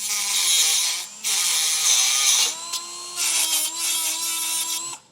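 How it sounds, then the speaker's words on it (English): A power tool such as a reciprocating saw cuts off a bumper beam stud flush with its nut on a 2013 Mini Cooper, giving loud, close, high buzzing bursts broken by short pauses as the cut goes on. "You can use a reciprocating saw, anything to cut off this stud flush with the nut on the outside mounting point on the bumper beam"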